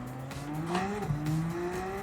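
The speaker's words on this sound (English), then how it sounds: "This Porsche engine's just so much power." Engine note of a Subaru WRX STi fitted with a swapped-in Porsche engine, racing in Gran Turismo 7, rises steadily as the car pulls through the gears, with a brief tire squeal underneath. It stays loud and close with no talk.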